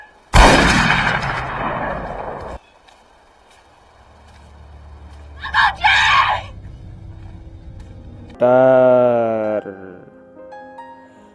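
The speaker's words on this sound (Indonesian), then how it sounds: "Jonathan pun dibedil oleh Graham yang membuatnya tewas seketika guys" A loud gunshot blast in a horror film rings out and decays, followed later by a couple of sharper bangs and then a sudden anguished yell.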